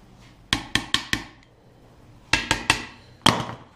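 Sharp metallic hammer taps from a vise hammer knocking steel parts tight on a DIY foundry build: a quick run of four strikes, a pause, then three more and a final blow, close and alone.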